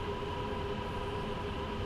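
BR 187 electric locomotive hauling a train up the steep Spessart Rampe line in Train Sim World 2, a continuous rumbling roll with a steady tonal hum, constant and close, no voices.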